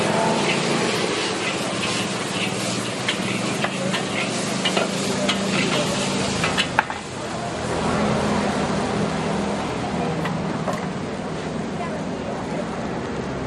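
Nasi goreng mixed with squid ink fried in a wok at a Jakarta street stall, a steady loud sizzle with scraping and stirring clatter, people talking over it.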